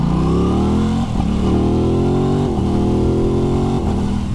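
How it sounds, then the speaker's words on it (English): A 2021 Aprilia RS660 motorcycle engine runs loud and close with no talk, holding a steady rumbling idle broken by a few quick rises and dips in revs. "let's power her up. Firing it up. Sounds very much like the Tuono."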